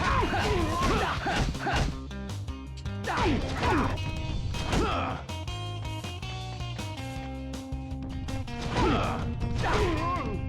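Fight hits from the PS2 brawler God Hand: repeated loud smashing, whacking blows in bursts every couple of seconds over continuous game music, with no talking.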